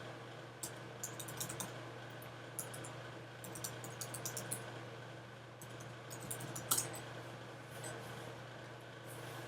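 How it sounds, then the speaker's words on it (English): Username and password typed on a computer keyboard: a quiet run of light key clicks in short irregular bursts over a steady low hum, with no one talking. "once you type in your user and password"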